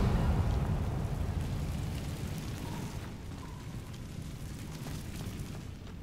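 A Confringo blasting spell from Hogwarts Legacy goes off as a loud, rumbling explosion. Its booming roar fills the start and slowly decays into a sustained, crackling rumble.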